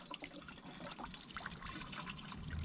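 Fresh water pouring steadily from a small hand pump at a roadside well drilled 75 feet deep, a continuous close trickle and splash with no talking.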